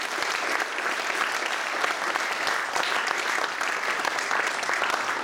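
A room at the House of Commons in London breaks into a loud round of applause, dense continuous clapping from a sizeable crowd that stays steady throughout.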